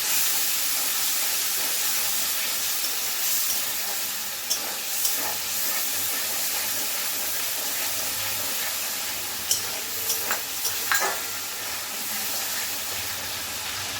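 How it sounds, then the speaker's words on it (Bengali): Spice-rinse water from a grinder jar hits a hot pan of jackfruit and prawn curry, raising a steady, loud steamy hiss throughout with a few sharper crackles and spits toward the end. "মিক্সিটা দিয়ে মশলার জলটা আমি দিয়ে দিলাম"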